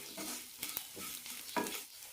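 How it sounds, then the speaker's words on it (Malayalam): Masala of chilli powder, roasted coriander powder and green chillies stirred in a pan for an okra curry: quiet close scraping strokes at an irregular pace over a faint sizzle, no voices. "നന്നായി മിക്സ് ചെയ്യാം."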